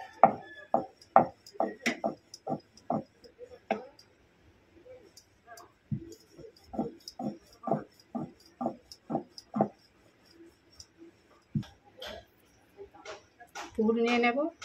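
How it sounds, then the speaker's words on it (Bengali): A rolling pin works small rounds of flour dough flat for samosas on a kitchen board, making a run of soft, even knocks and taps that stop, then resume, with a brief clatter at the end. "আটা দিয়ে একটা ছোট লুচির মতো বেলে নেব।"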